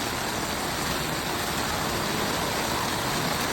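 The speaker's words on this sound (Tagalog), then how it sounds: "Tuloy-tuloy pa rin yung pagbuhos ng ulan." Heavy rain pours down in a continuous, loud hiss that never lets up across the whole stretch.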